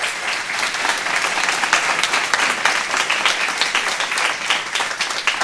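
Sustained applause from an audience at a Fundación Telefónica meeting in Ecuador, dense steady clapping filling the room throughout with no talk on top.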